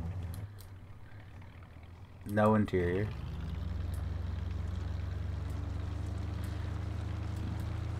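Raptor truck engine in Farming Simulator 19 drones as a steady low idle rumble through most of the stretch, with a brief louder rev burst early on and a voice talking over it.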